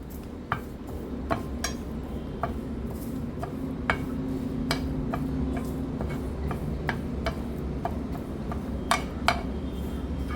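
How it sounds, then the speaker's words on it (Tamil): Curry leaves dry-roasting in a pan are stirred lightly, producing scattered crisp ticks and clinks of a spoon against the pan over a low steady hum, with no speech. "இந்த மாதிரி லைட்டாக கிளறி விட்டுக்கிட்டே இருக்கணும், இல்லாட்டி கருப்பாகிடும்"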